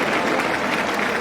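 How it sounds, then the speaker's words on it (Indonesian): Audience applauding at an alumni association inauguration event for SMPN 3 Jakarta, a dense, steady wash of many hands clapping, loud and close, with no pause. "Tepuk tangan buat Bang Aji."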